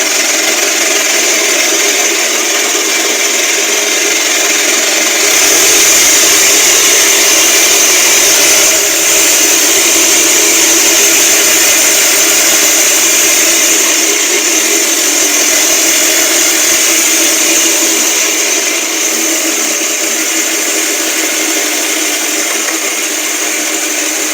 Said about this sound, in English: I'm going to grab my drill and we're going to continue backlap.